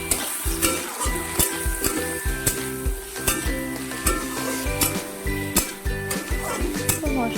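Taro stolons coated in spice mix frying in a pan, stirred with repeated rhythmic scraping strokes over a constant close sizzle.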